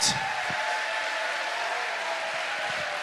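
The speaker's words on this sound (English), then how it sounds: "one last huge round of applause for all the medalists" A crowd applauds the medalists at a sword-fighting tournament's closing ceremony, a steady, fairly soft wash of clapping heard from a distance throughout.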